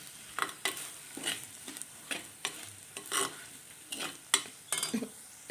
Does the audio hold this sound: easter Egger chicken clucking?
no